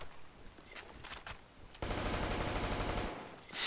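Rapid full-auto gunfire from a gun in the video game Blackshot, a dense burst of about a second and a half following a few scattered lighter clicks, then a last loud hit at the end.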